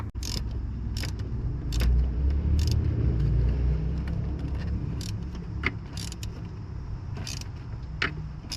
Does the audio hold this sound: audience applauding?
no